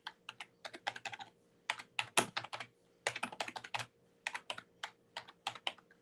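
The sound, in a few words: typing on a computer keyboard with one hand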